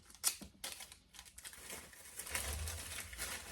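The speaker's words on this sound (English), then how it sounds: "I think I still am going to add a little tape." Packing tape torn off and pressed onto a shipping package, with crinkly tearing bursts, a sharp rip near the start and steady rustling handling close by.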